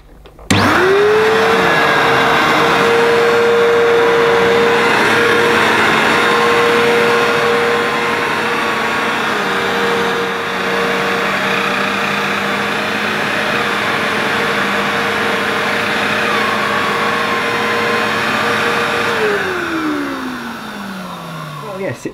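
An Electrolux Z1910 self-propelled cyclone vacuum cleaner runs steadily at close range with a loud, whining motor hum that starts abruptly, holds for about twenty seconds with slight pitch shifts, then winds down.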